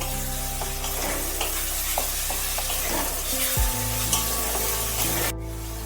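Spice paste of turmeric paste and ground turmeric frying in hot oil over a raised gas flame, stirred steadily with a spatula, a continuous close sizzle with scraping strokes and no talking.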